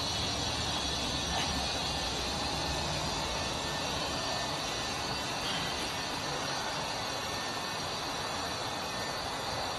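Compressed air rushes steadily through a Vevor CUT-50P 50A air plasma cutter, a continuous loud hiss that holds the same level throughout, with no voices.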